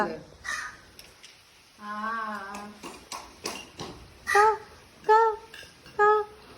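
A crow gives several harsh, drawn-out caws in the rain, three coming in a regular series near the end, with a voice and light clatter around them.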